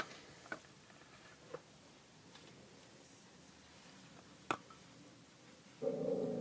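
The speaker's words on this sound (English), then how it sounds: "you can probably hear my dog Molly in the background too" A dog named Molly barks at ducks outside: a few faint, distant single barks spaced seconds apart over a quiet room, then a low hum near the end.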